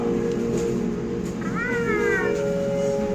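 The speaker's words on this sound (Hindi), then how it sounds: "बिल्ली देख रहे हो?" A cat meows once, a drawn-out, wavering call over a steady background hum.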